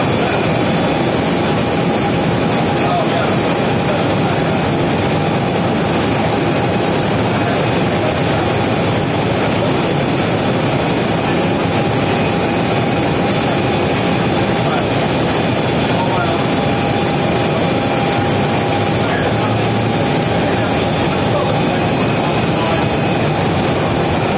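An American Airlines Boeing 737-800 jet airliner at Phoenix Sky Harbor Airport gives off a loud, steady, unbroken engine roar with a faint whine, holding level throughout.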